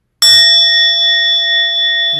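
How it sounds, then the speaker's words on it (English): A meditation bell is struck once and rings on as a clear, pure sustained tone that fades only slightly, loud and close with no talking. "We'll ring the bell 3 times"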